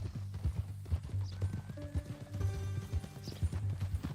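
Horse hooves clip-clop steadily in a Western ranch scene from the video game Cyberpunk 2077, with an occasional whinny. Soft background music plays underneath, and no one speaks.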